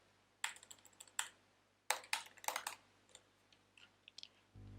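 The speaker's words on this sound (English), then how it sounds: "so I'm typing" Typing on a computer keyboard while working on a mobile app design, with bursts of several quick clicking keystrokes separated by pauses, close and moderately loud with no talking.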